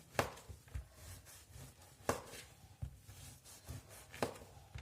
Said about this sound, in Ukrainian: Отакі я зараз буду нарізати всі два коржі перекришу